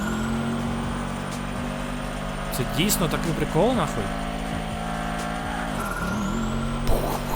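A Mercedes-Benz G63 engine in GTA 5 drones and revs with a rough, buzzing exhaust note, steady and loud, while someone talks over it.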